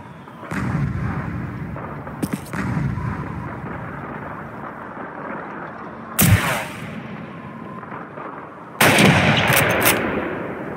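In the PC game Call of Duty 2, loud gunshots crack out over a rumbling wartime battle backdrop, with several separate sharp, booming reports spaced seconds apart and no talk over them.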